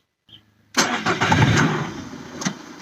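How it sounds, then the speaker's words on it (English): A Citroen Xsara Picasso engine cranks and catches after a short click, then settles into a steady idle, heard close and moderately loud. "switch off ignition and switch on again"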